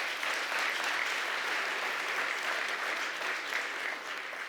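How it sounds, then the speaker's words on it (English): Audience at the unveiling of the SAY Detroit Play Center expansion applauds steadily, a dense sustained wash of clapping from a crowd that fades slightly toward the end. "So a round of applause for the community as well"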